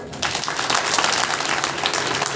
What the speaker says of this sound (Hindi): सारे बजाओ ताली।